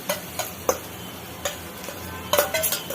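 Grated coconut roasting in ghee, stirred in a pan with light scraping ticks and soft taps at an uneven pace, close and faint, with no talking.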